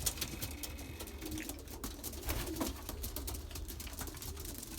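Belgian racing pigeons coo softly inside a loft, low murmuring calls overlapping against a busy background of rustling and faint clatter.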